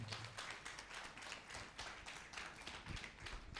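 A church congregation claps loudly together at a service, a dense, steady patter of many hands sustained throughout, fairly faint overall.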